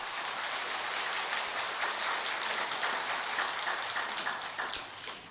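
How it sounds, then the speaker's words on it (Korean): A packed temple dharma hall audience claps together in a long even wash of applause that holds steady, then thins out near the end. "우리 큰 박수 한번 하시죠"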